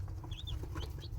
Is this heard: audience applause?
no